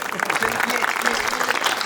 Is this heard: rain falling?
no